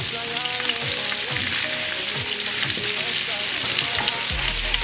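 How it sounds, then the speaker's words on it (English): Oxtail pieces browning in a new pot for Puerto Rican coconut curry, a loud, steady sizzle and crackle of frying with occasional stirring clinks, close and continuous throughout. "Then we'll flip it over and allow the other side to get golden brown"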